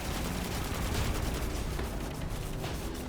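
Rapid SMG fire in Destiny 2 during a solo Master Nightfall on The Glassway, a dense continuous burst of shots holding steady and loud for the whole stretch with no talk over it.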